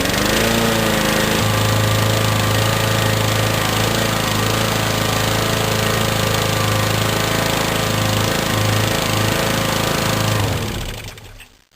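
A gasoline lawn mower engine with a faulty carburetor runs loud and close, its rough drone rising and dipping in uneven surges before cutting out at the end.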